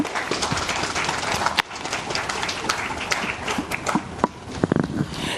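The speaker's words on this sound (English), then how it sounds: "Please, a round of applause once again." Applause from a conference audience at an economic forum in Ghana's Volta region, a dense steady patter of many clapping hands filling the room, with a few louder sharper claps near the end.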